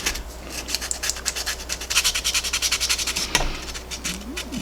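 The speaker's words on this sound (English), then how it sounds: "Just keep sanding those and get those." Plastic bubble-flared fenders on a NASCAR Monte Carlo scale model being sanded by hand, with rapid, close, rhythmic scratchy strokes that run steadily and pause briefly once.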